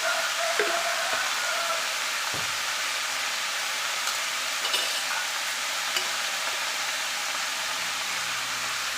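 Vegetables for sambar sauté in a pan with a loud, continuous hissing sizzle and a few faint stirring knocks.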